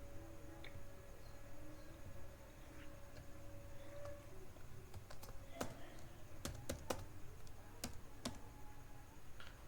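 Steady typing on a computer keyboard while building a Power BI dashboard, with irregular key clicks and a few sharper taps over a constant background hum, no voice.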